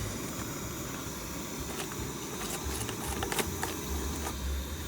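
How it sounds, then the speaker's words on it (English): Wine from a can poured into a hot pan while camping sizzles in a steady, dense hiss that holds near and even throughout, with faint clicks on top and no voices. "the next thing, of course, you want to do is to deglaze the pan, and so we're going to do that right now"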